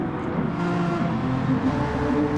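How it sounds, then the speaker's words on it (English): A Gr4 race car in a racing video game at Fuji, short shifting: a continuous loud engine drone whose pitch steps as gears change up early, with no voices. "can hear actually Smithy changing up early, so he's definitely short shifting, definitely down on power"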